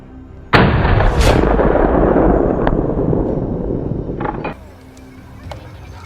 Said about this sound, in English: Nick chose a favorable angle and pulled the trigger